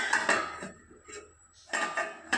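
A spoon clinks and scrapes against a metal pan while punarnava leaf fry is stirred, a few sharp bursts of metallic contact separated by quieter gaps.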